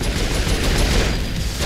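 Sustained minigun fire in the Saints Row 4 video game, a dense continuous roar of rapid shots filling the whole stretch at steady, loud level.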